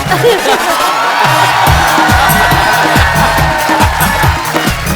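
A studio audience claps and cheers loudly throughout, a constant roar of applause mixed with voices and whoops close by.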